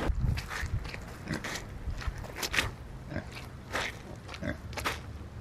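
Pigs on a homestead grunt and oink in close, irregular bursts, with rustling and shuffling between the calls.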